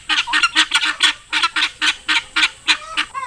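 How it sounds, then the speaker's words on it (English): Loud, harsh rhythmic alarm cackling from a guinea fowl, a rapid string of about a dozen grating calls repeated close by. "Guinea fowls will have a noise that they do, and I will put some on right now."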